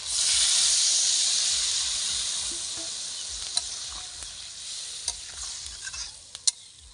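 Water poured into a sizzling pointed gourd and shrimp curry bursts into a loud hiss of steam that slowly fades, with a few sharp clicks of a spoon against the pan toward the end.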